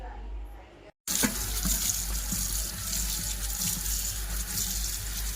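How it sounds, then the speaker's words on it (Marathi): Tap water runs steadily into a sink as produce is rinsed under it, a continuous close splashing rush after a brief pause. "भाजीची तयारी करून घेते आणि धुवून पण घेणार आहे"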